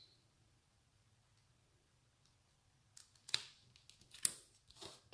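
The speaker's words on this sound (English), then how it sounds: "I'm going to take my scissors, not my good scissors, and just trim the adhesive" Scissors snip through adhesive in a few quick, faint, crisp cuts heard alone in a quiet room after a silent stretch.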